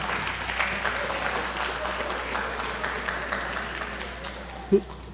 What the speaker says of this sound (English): Can you guys give yourself a round of applause for enduring?